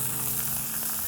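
Food searing on a hot griddle gives a steady, even sizzle that holds at the same level throughout, with no voices over it.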